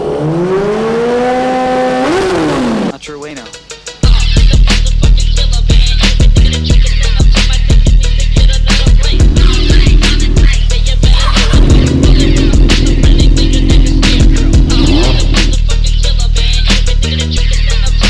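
A Kawasaki motorcycle engine runs loud and close, first with a rising whine, then a sustained rough roar with repeated throttle blips and revs, and no speech over it.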